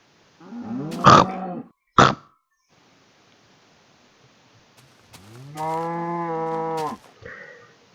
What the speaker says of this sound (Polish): Krowy tańczą, skaczą za oknem.